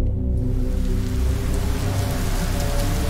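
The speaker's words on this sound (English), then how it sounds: "That starts raining." Steady rain falls in a horror video game, a dense, even hiss of drops on surfaces that carries on without a break and has no talking over it.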